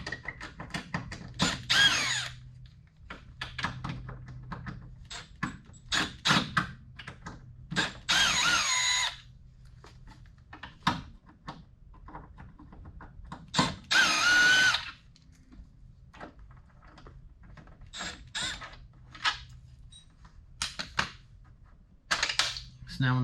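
A power drill backs four screws out of the base of a TV in a garage, with several short whirring bursts and a louder sustained run, separated by pauses and handling clicks.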